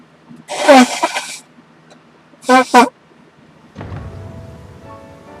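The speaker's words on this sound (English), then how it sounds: "I gotta blow my nose." Two loud, honking nose blows close to the microphone, followed by a rustling, muffled snuffle.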